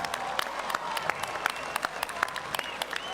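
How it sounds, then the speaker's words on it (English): Crowd applause at the 24th World Scout Jamboree opening ceremony in West Virginia, dense sustained clapping from a large audience, fairly distant and even in level. "Let's give him a big round of applause!"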